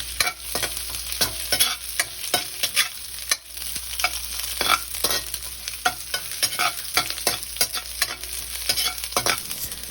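Garlic and onions sauté in a pan, giving a close, steady sizzle broken by repeated scraping strokes of a spatula stirring at an irregular rhythm, with no voices.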